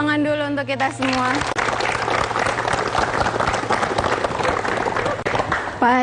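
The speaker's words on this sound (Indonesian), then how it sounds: "Tepuk tangan dulu untuk kita semua." Studio audience applause on an Indonesian television talk show, a dense steady wash of clapping lasting several seconds, with a voice or music briefly at the start and end.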